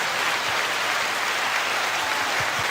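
A live show audience gives a continuous wash of applause, even and unbroken, with a few low thumps underneath.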